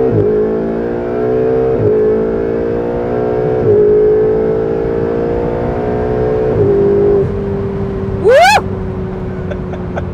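A Ferrari 488 engine revs up hard through several gear changes, pitch climbing and dropping in steps, loud and close, then settling to a steady drone as a sharp whoop rises over it.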